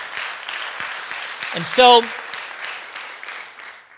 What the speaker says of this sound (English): That deserves a clap offering to the Lord.